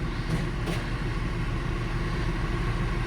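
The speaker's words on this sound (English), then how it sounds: "Our only best tractor" An old farm tractor idles steadily at close range, a low, even engine rumble with no revving and no talking.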